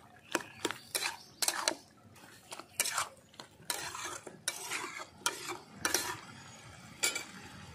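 Dried fish (shutki) and greens frying in a pan, a utensil scraping and knocking against the metal in irregular strokes over a soft sizzle, close and alone.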